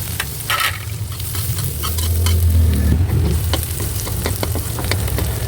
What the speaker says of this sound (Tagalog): Kaya ilalagay na natin guys yung ating bawang.